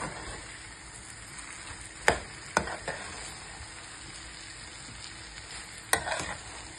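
Egg is stirred in a frying pan for Bengali-style pasta, a constant soft sizzle broken by a few sharp clinks of the utensil against the pan.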